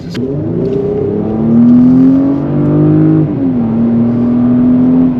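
A Porsche in hybrid mode accelerates hard to 70 mph, heard from inside the cabin. The loud engine drone climbs steadily, dips once at a gear change, then keeps pulling, with no talk.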